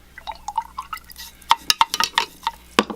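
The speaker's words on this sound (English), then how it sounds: "I'll stir that up." Salt water solution is stirred in a glass container, producing quick tinkling clinks and small liquid drips, close and fairly clear, with a denser flurry of taps toward the end.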